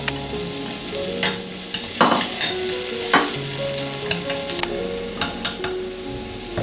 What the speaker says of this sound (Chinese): 下入黄油，小火， 洋葱、蒜爆香